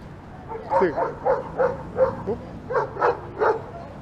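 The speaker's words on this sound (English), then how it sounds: "is he barking at me?" A dog barks repeatedly in short bursts, about a dozen sharp woofs in an uneven rhythm, fairly close, over steady background noise, on a snowy street in Toronto.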